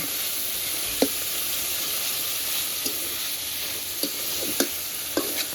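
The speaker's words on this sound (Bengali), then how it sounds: "মশলার সঙ্গে পেপলের ডাটাটা একটু ভালো করে ঢাকা দিয়ে দিয়ে কষিয়ে নেব" Papaya stalks sauté with spice masala in a pan for a Bengali egg curry, sending up a steady, loud sizzling hiss. A few sharp spoon scrapes and knocks punctuate the frying throughout.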